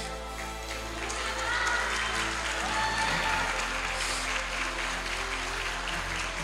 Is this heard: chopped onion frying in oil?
no